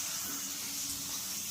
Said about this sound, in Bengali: পরোটা ভাজার কাজ চলছে।